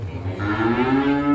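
A single sustained moo from cattle at a beef farm, close and fairly loud, rising slightly in pitch over a bit more than a second with no talk.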